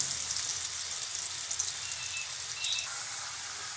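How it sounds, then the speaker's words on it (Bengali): Potatoes frying in oil in a home kitchen: a steady, dense sizzle sits close and constant throughout, with faint crackles and no voices. "এবার আলুটা আমি মোটামুটি করে ভেজে নেব কড়া ভাজতে হবে না"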